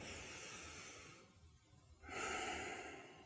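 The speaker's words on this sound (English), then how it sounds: "So as you breathe in, you go." A person takes deep diaphragmatic breaths, first a long airy exhale, then a short pause, then a strong inhalation, close and clear with no speech.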